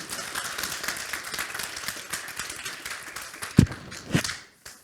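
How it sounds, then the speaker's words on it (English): Audience applause for a tech leadership speaker at a talk, a steady crowd of clapping hands filling the room, with a couple of louder thumps near the end before it stops abruptly. "A round of applause for Max."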